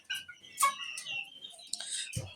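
Chickens kept through the winter cold cluck in a short run of close, clear calls, with a louder squawk near the start and a low thump at the end.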